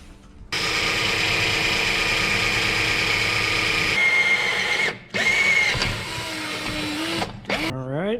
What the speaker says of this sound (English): Let me go drill that.